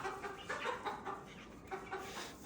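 Chickens and roosters clucking and squawking at a farm stable, several birds calling in overlapping bursts at moderate distance, with steady background noise and no talk.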